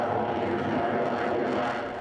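An F-22 Raptor fighter jet at an air show demonstration gives a steady, broad engine roar heard at a distance, with faint talk mixed underneath.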